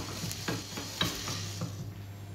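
Light crackling and scraping of pepper toasting in a dry pan for cacio e pepe, with a few sharp taps and stirring clicks over a low steady hum.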